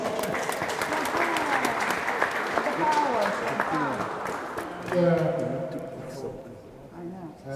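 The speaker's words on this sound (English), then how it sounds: "Please, give a round of applause." Applause from an audience at a flag raising ceremony in Cameroon fills most of the clip, mixed with talking voices, then fades as a voice continues speaking.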